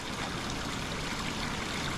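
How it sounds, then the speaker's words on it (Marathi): Continuous rushing water, steady and close, pouring from a stone spout at Raireshwar fort, with no other sounds. "या गोमुखातून बाराही महिने पाणी हे येत असतं"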